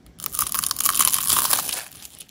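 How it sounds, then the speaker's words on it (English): Crisp, crackly crunching as someone bites into golden homemade vegetable spring rolls, heard close up with brittle shattering over about two seconds. "Just listen to that crunch."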